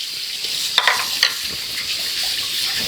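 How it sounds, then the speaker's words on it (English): Tap water running over a plastic marinade bag in a kitchen sink, a steady hissing spray with a couple of brief crinkles and splashes as the bag is moved. "A little rinse here."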